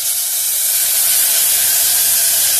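Tomato water poured slowly into a very hot pan while cooking pineapple rasam, giving a loud, steady steam hiss and sizzle that fills the whole moment with no talking.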